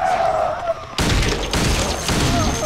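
A single loud gunshot in Silent Hill 2, a sharp broadband blast that cuts in suddenly after a quieter stretch of game ambience and leaves a dense, noisy wash trailing behind it.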